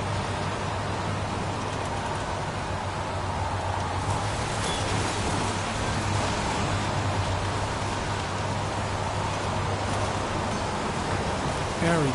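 Steady rain falls throughout the PS4 game Heavy Rain, a constant broadband hiss with a low hum beneath it, evenly loud with no talk over it.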